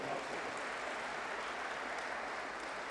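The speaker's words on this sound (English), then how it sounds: "let's have a huge round of applause." A large audience claps steadily at a conscious-living master class, a soft, even wash of applause heard from a distance without any let-up.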